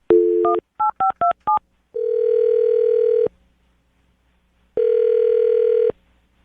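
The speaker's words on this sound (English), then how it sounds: "I'm going to dial the phone number right now." A number dialed on a telephone during a radio show call: a rapid run of clear touch-tone beeps, then two long, steady ringback tones separated by silence, all loud and close.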